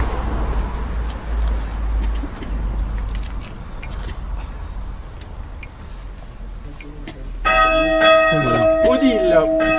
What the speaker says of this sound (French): on va le mettre en route et vous allez entendre que les cloches vont rentrer de la plus petite jusqu'à la plus grande